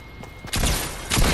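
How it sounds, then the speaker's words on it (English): Bursts of Fortnite gunfire, a dense loud roar of shots that kicks in suddenly and then flares again a moment later. "Okay, they're shooting."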